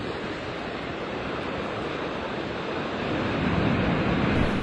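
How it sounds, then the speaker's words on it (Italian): Violent storm surf pounds the Tyrrhenian coast of Calabria in a continuous loud roar of breaking waves, with wind buffeting the microphone and the surge building toward the end. "Stamattina violente le mareggiate lungo la costa tirrenica"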